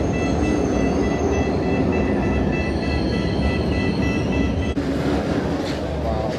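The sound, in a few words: Cairo metro train running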